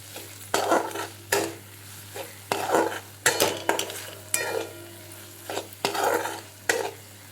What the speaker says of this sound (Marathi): आता थोडीशी साखर टाकून घ्यायची आहे आणि सर्व मिक्स करून घ्यायचं आहे